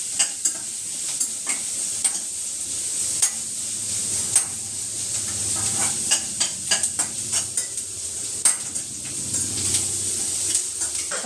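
Onions fry in oil in a home kitchen pan with a steady close sizzle, broken by repeated sharp scraping clicks of a spatula stirring throughout; no one speaks.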